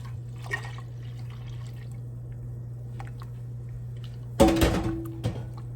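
Milk is poured into a warm eggnog mixture just taken off the stove; after a quiet stretch with a low steady hum, a short splashing pour comes in near the end.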